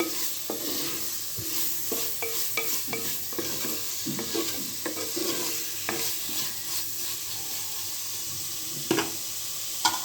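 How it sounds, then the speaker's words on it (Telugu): Vegetable biryani masala is stirred in a pan over a low, steady sizzle, with repeated close spoon scrapes and knocks against the pan at an uneven pace. "తగినంత ఉప్పు వేస్తాం. ఒకసారి కలుపుకోవాలి."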